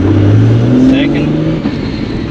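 Mk4 JZA80 Supra engine droning inside the cabin while a refreshed Getrag V160 gearbox is shifted into second gear, with a brief metallic grinding mesh over the loud steady hum.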